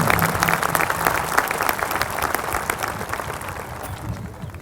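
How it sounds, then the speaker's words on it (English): Audience applause fills a high school commencement ceremony, a steady broad wash of many hands clapping at moderate volume that tapers slightly toward the end, with a faint voice or band tone beneath early on. "One final round of applause for our military service members and the Baldwin High School Band"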